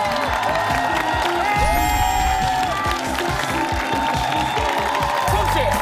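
A television studio audience applauds and cheers for two young table tennis players, energetic clapping mixed with shouts and whoops while music plays underneath.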